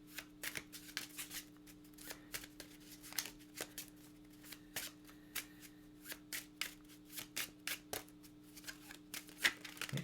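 Playing cards are shuffled close up in quick, crisp bursts of riffling and snapping, repeated in irregular clusters against a quiet background with a faint steady hum.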